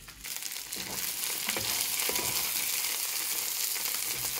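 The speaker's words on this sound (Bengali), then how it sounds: "মিট বলগুলো ভাইজা নিচ্ছি" Meatballs frying in a pan, a dense continuous sizzle with occasional scraping and stirring clicks, close and steady throughout.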